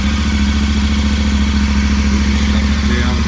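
A KTM 1290 Super Adventure R motorcycle engine idles close by, a steady, loud, even throb with a low rumbling tone and a faint mechanical clatter throughout.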